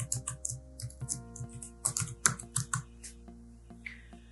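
Rapid irregular keystrokes tapped on a computer keyboard while entering a password, close and fairly quiet, a burst of separate clicks with brief pauses between them.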